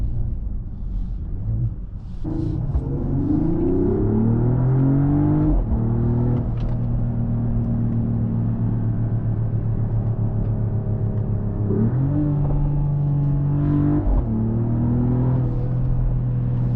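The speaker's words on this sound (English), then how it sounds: "Also we have pops from the exhaust." A 2025 Mercedes-AMG GLE 53 Hybrid SUV engine revs up and down in low, throaty surges, with a few sharp exhaust pops cracking out between the revs, close and loud.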